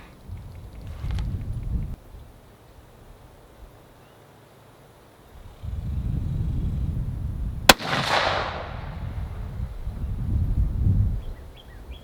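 A Savage Ultralight rifle chambered in 6.5 PRC fires a single sharp, loud shot at a shooting range, its crack trailing off in a brief echo over low, gusty wind rumble.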